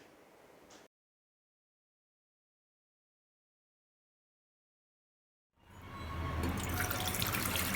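Tap water runs while mutton chops are washed and a pressure cooker is filled. A short stream is followed by a long silence, then a loud, steady rush of running water that continues to the end.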